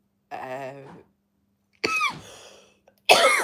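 Three separate bursts of coughing and throat clearing, close and fairly loud, with short silent gaps between them and no talking.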